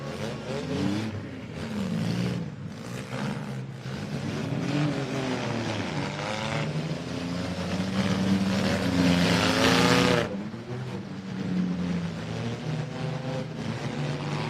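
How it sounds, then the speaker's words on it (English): Front-wheel-drive cars spin around on a slick demolition derby track, engines droning and revving steadily at a distance, with one surge of louder revving before it drops back, no voices over it. "You see how slick things are as these front wheel drives spin around."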